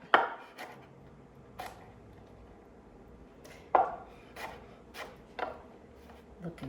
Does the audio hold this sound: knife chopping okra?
yes